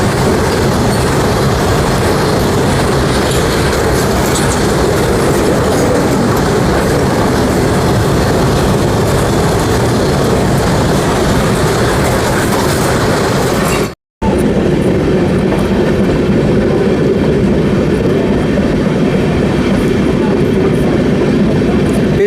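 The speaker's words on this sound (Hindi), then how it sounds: "वंदे भारत के साथ साथ पैरेलली क्रॉसिंग हो रही है फ्रेट ट्रेन के साथ।" An Amrit Bharat Express rushes along beside a freight train, a dense, loud rolling roar with wheel clatter that drops out for a split second midway, then resumes.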